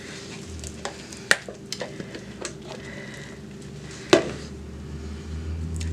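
A spatula works thick kombucha cold process soap batter in a container, making wet, sticky scraping and slapping sounds. Knocks come at irregular intervals, with one sharp clack partway through, over a steady hum.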